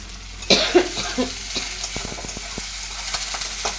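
Garlic frying in a pan in a village kitchen in Ashoknagar, West Bengal: a steady hiss of sizzling oil with a few sharp pops and stirring scrapes near the start, then a continuous crackle close by.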